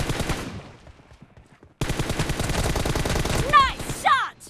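Gunfire in a team deathmatch video game rattles in bursts, one volley fading out and then a dense stream of automatic shots resuming loudly, with brief game voice lines layered near the end.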